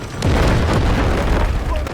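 A loud, heavy boom rolls through the whole moment, a deep rumbling blast of a grenade going off in the shooter game Delta Force, with a voice partly buried beneath it.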